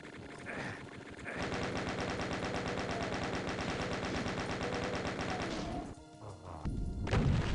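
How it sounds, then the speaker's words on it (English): Rapid weapon fire and explosions in the video game Doom II make a dense, continuous rattling barrage for several seconds, then drop off into scattered crashes. "Were all those rockets just like barely touching you?"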